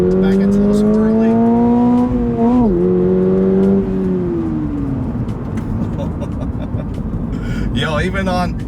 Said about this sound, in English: Let's see if we rev it out just a little higher here.